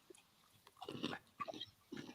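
Crunchy food chewed close to the microphone, with three bursts of crisp biting and crunching separated by short pauses, fairly loud and up front.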